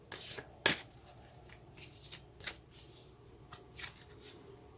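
Tarot cards are shuffled by hand to draw a single card: a quiet series of short riffling slaps and soft flicks in an irregular rhythm, fairly close, with no talk over them.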